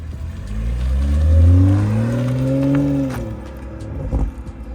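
Toyota Supra fitted with an HKS exhaust revs up close by, engine note rising and holding in a smooth drone before falling away, ending with a few quieter blips.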